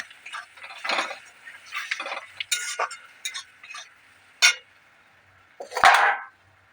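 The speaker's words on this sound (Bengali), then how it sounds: "টমেটো কুচি, মশলা দেখুন নাড়াচাড়া করে নিই।" Chopped tomato, chili powder and spices being stirred in a pan, with intermittent scraping strokes and light metallic clinks of the spoon against the pan, close and moderately loud, with short gaps between strokes.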